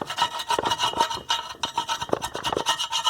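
A chisel scraping leftover foam surround material off the edge of a Sansui SP-3500 woofer cone, rapid close rasping strokes in an uneven rhythm, loud and alone.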